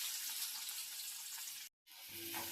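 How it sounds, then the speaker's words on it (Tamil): Onion fries in hot oil in a kadai with a soft, steady hiss of sizzling, briefly cut off before resuming faintly. "எண்ணெய் காஞ்சிட்ட பிறகு வெங்காயம் போட்டுக்கலாம்."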